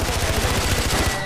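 Rapid automatic gunfire in the Far Cry shooter game, a fast, dense burst of evenly spaced shots, loud and close, with no talking over it.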